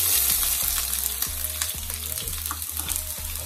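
Chopped onions sizzle and crackle in a preheated pot, a loud, steady frying hiss with scattered pops and stirring scrapes close by, no talking.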